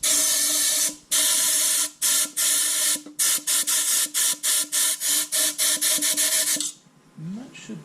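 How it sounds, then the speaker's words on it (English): An air compressor nozzle blowing out a fabricated rocket avbay nosecone part, a series of loud sharp hissing blasts, first long bursts then rapid short pulses, ending in quieter faint sounds. "And then the air compressor."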